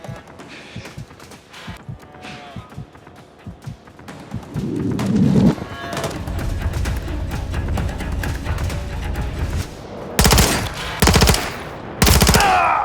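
Video game gunfire in a sniper fight on a tundra map crackles in rapid bursts, sparse at first and then denser and louder, with sharp loud volleys near the end.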